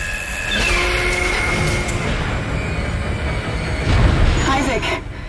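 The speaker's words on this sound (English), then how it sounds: "Replacing damaged tram car." A tram car in the Dead Space video game rolls in with a loud, sustained mechanical rumble and metallic screech, swelling again near the end as it arrives close by.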